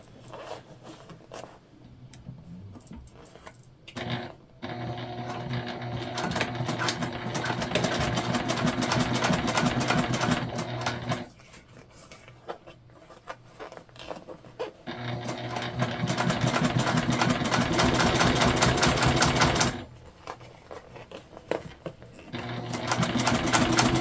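A sewing machine topstitches jelly vinyl for a back-to-school pencil box, running loud and close in long steady bursts of rapid needle hum, separated by short pauses.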